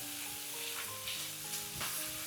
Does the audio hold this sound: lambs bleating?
no